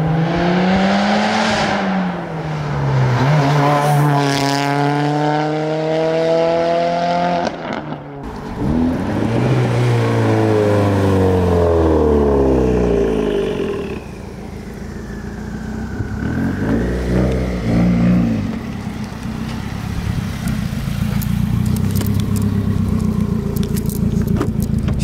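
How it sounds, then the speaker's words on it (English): A Subaru WRX with a loud exhaust roars past outdoors, engine note climbing through the revs as it approaches, then fading and returning with further revving, loud and close throughout. "Nice flyby, Tim."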